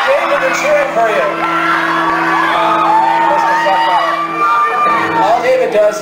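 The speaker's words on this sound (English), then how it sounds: "David, they're cheering for you." Concert crowd at a show in Tucson in 2008, whooping and shouting loudly and continuously around the venue, with someone talking over the noise and steady tones held underneath.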